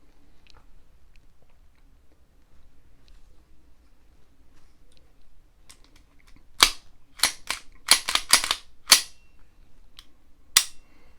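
A German P38 pistol is dry-fired in single action, giving a handful of sharp, close metallic clicks and snaps in an irregular cluster after several seconds of near silence.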